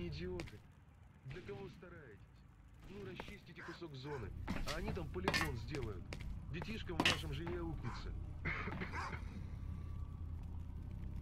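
An angry dog barking in the video game STALKER: Shadow of Chernobyl, repeated sharp barks mixed with gunfire-like cracks and a continuous background hum.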